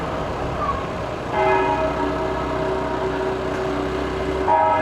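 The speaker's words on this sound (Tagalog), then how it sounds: "Tumunog na yung kampana." A church bell rings out in Candaba, its sustained tones hanging over steady street and traffic noise on flooded streets, heard from some distance.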